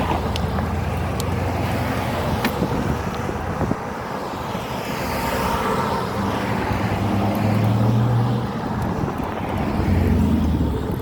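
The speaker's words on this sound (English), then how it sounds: "traffic going into Sanibel is pretty heavy" Heavy road traffic on the way to Sanibel Island, Florida, forms a loud, continuous rumble and whoosh of passing vehicles that rises and falls over several seconds, heard close with no talk.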